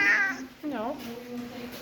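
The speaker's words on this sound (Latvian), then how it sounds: "Kur tev ir kaķis? Mīš kaķis? Labs kaķis?" A cat meows a few times, short drawn-out and rising cries close by, mixed in with a person talking to it.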